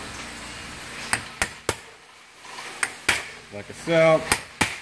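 A hammer stakes a metal part on a CZ Bren 2 pistol brace with a series of sharp, ringing blows at close range, irregularly spaced, alongside a brief spoken remark.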